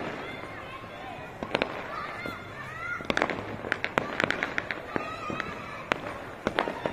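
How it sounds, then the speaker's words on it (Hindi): Fireworks and firecrackers crack and pop repeatedly, some close and sharp, others farther off, with whistling rockets rising in between. The celebration is in Azad Market, Delhi, with people on rooftops, and voices talk underneath. "आतिशबाजी होती हुई आजाद मार्केट हमारा इलाका"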